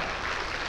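An audience at an indoor gathering applauds in a short, steady wash of clapping, heard alone without speech.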